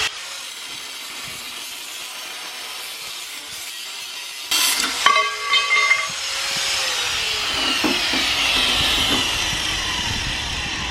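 A power tool starts up and cuts through a Club Car Precedent golf cart rear seat part, a loud whining, grinding cut that follows a quieter stretch of low background noise.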